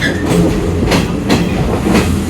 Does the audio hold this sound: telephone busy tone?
no